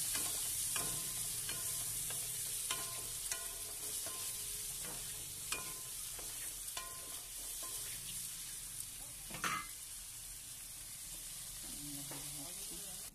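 Paneer cubes fry in oil with salt and a little turmeric, a steady soft sizzle broken by repeated scraping strokes of a spatula stirring the pan, close and moderately quiet.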